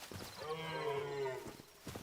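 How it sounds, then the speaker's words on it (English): A stag creature in the video game Hytale gives a long, low, cow-like moo that swells and trails off, with soft game sounds around it and no talking. "Why do they make a sound of a cow? That doesn't sound like a stag."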